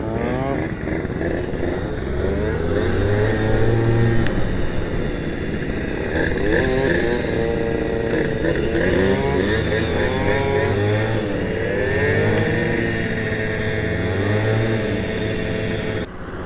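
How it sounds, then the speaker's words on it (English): A Honda Dio scooter with a newly fitted exhaust pipe, not yet rejetted, buzzes at close range with uneven, wavering revs, while nearby riders can be heard talking outdoors at night. "his bike's running kind of weird right now"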